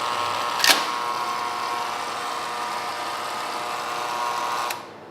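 A laboratory centrifuge spins plasmid miniprep tubes at 14,600 RPM, holding a steady, even high whine. A brief click or clunk comes near the start and another as it winds down at the end.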